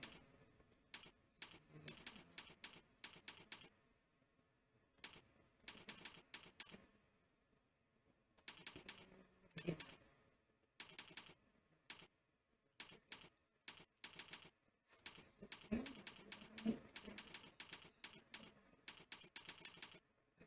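Bursts of rapid keystrokes on a computer keyboard during a Typing.com typing test, clattering in quick irregular runs separated by short pauses, close and clear with no talking.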